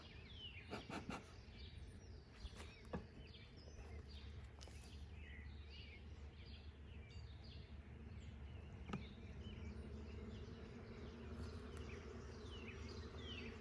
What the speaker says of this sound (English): It's kind of a roar because they're queenless and they know it right now.